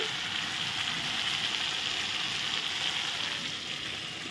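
Spice masala fries in a pan with a steady, dense sizzle, hissing continuously at close range with faint stirring beneath.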